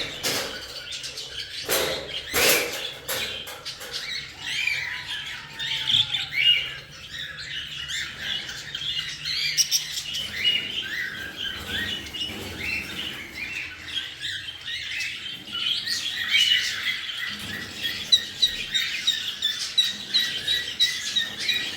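Caged birds chirp, tweet and squawk continuously during harvest, with wing flapping and scuffling among many nearby birds and a few sharp bangs early on.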